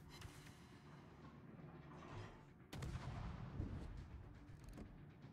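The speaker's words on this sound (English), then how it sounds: "I'm going to swap to shooting at the other battleship for a moment" Battleship main guns fire in the World of Warships video game: dense continuous rumbling gunfire with a sharp heavy salvo near the middle, sustained booming at close range with no talking.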